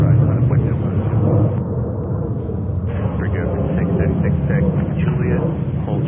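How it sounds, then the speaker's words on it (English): An Emirates airliner takes off at JFK Airport, a loud sustained jet roar with heavy low rumble, alongside voices talking throughout. "But now Emirates taking off"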